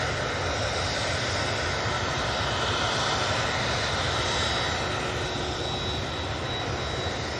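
A TUI jet airliner at Manchester Airport gives a steady, broadband engine roar that holds level and loud throughout, with no voices over it.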